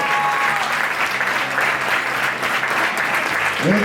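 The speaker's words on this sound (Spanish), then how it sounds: "Número 22, Eva, do Chantada, forte aplauso." Sustained, dense applause from a crowd as a player is introduced at a women's all-star football match in Lugo. The clapping stays steady and loud throughout, with faint speech in the background.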